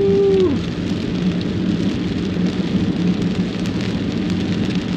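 Steady rain and wind hiss loudly and evenly around a motorbike rider on a cold, wet ride, with a short tone at the very start and no speech.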